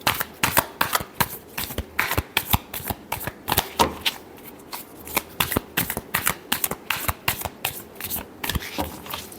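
Tarot cards shuffled by hand during a Pisces love reading: a quick, uneven run of crisp, close rustling flicks and slaps that repeats for several seconds with short pauses, with no one talking.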